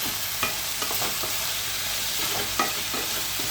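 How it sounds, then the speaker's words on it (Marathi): Spring onion and red chilli powder are stirred in a hot pan, giving a soft, constant sizzle broken by a few light spoon scrapes and taps, close up with no talking. "हे सगळं आपण आता मस्तपैकी हलवून घेऊया"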